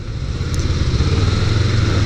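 A Honda CBR250RR motorcycle engine runs loudly close by through an aftermarket exhaust, a rough, raspy, treble-heavy note holding steady with slight pulsing revs.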